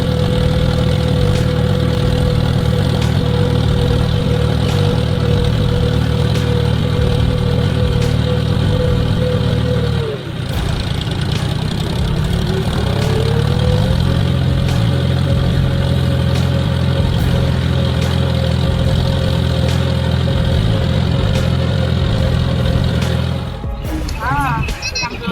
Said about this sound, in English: The roar of the engine tore through the air